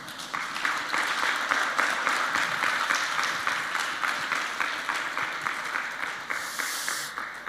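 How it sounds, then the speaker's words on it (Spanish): Audience applause welcoming a pastor at a Christian leaders' congress in Chile, steady dense clapping sustained throughout at moderate loudness, with no voices over it. "Vamos a invitar con gran aplausos"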